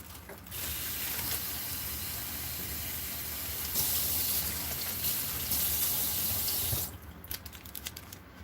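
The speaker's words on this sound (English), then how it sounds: "I have a small Ziploc baggie, just a sandwich baggie, and I'm going to add some water to that" A steady stream of tap water runs into a small Ziploc sandwich bag for several seconds, a constant close hiss and splash that stops abruptly, followed by faint rustling of plastic in a kitchen.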